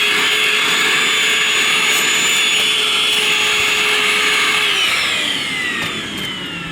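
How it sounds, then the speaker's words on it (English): Close, loud vacuum cleaner drawing up drilling dust from holes bored for glass pool fence posts, a steady whining hum with high tones that shift and drop slightly near the end as the nozzle moves. "just vacuum all the debris"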